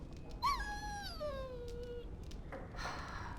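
A dog in the fantasy game Dragon Age: Origins gives a drawn-out whimpering whine that slides downward over about a second and a half, followed by faint shuffling against a quiet background.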